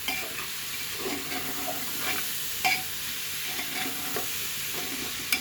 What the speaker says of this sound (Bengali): কাটারি হোক চাউল আর ডালে একবারে ধুয়ে রেখেছি এটাও দিয়ে ভেজে নেব মুগ ডালটা একটু ভেজে নিলে খেতে ভালো লাগে